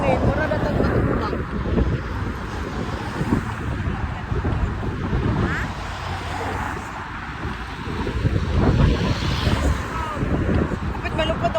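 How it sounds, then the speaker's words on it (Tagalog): Strong wind buffets the microphone beside Sloterplas, a man-made lake in Amsterdam, in a steady loud roar with gusts swelling near the end, while people talk and call out over it. "Uy, kailang hangin."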